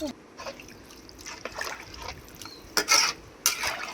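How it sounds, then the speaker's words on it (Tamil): Water poured into a pot for soaked basmati rice during chicken dum biryani cooking, a light trickling and splashing stream with a louder gush near the end, close by and heard alone. "அந்த பாத்திரத்தில் ரெண்டு பங்கு தண்ணி ஊற்றிடணும்"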